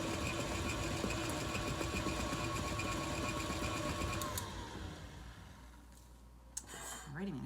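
Electric mixer whirring steadily as it blends pumpkin cheesecake filling, a continuous motor drone for most of the clip that drops and fades near the end, followed by a brief clatter.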